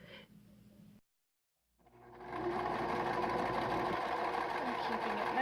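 A sewing machine stitches a straight line along the presser foot edge, driven by the foot pedal: a moment of quiet, then a steady, close, continuous whir that runs to the end, with a voice briefly at the start.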